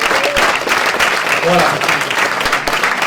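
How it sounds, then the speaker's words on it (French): Campaign meeting audience in Aix applauding two campaign directors, a loud, continuous burst of clapping with scattered voices and a short remark from the speaker over it. "Allez, on va venir, on les applaudit."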